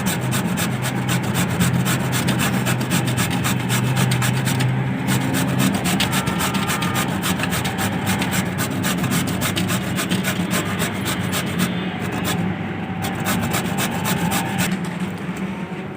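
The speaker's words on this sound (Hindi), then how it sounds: "अब हम लौकी को कद्दूकस कर लेंगे।" Bottle gourd (lauki) being grated for halwa, a steady, continuous rasping scrape with a fast repeating rhythm that runs unbroken and fairly loud close by throughout, with no talking.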